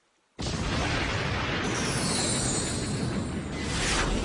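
A sudden booming Beyblade anime special-attack explosion bursts in after a brief silence and roars on as a dense, sustained blast with a rising whoosh layered through it.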